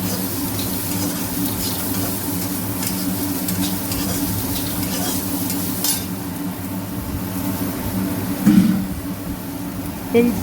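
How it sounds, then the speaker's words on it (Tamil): Onion and garlic sauté in a pan of oil, giving a steady low sizzle with occasional stirring scrapes and a louder clatter near the end, heard close. "வெங்காயம் பூண்டு இதெல்லாம் போட்டு நல்லா வதக்கிட்டு"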